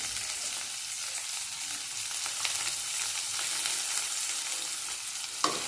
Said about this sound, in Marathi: कांदा लाल होईपर्यंत परतून घ्यायचा आहे